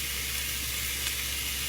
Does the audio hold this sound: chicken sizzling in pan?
yes